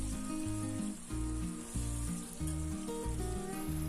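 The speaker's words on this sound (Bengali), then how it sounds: "সেই কারণে গ্যাসের ফ্লেমটা আস্তে দিয়ে পটলগুলো ভালো করে লাল করে ভেজে নেব" Pointed gourd (potol) pieces fry in oil over a low gas flame, giving a steady soft sizzle that runs beneath tuneful background music.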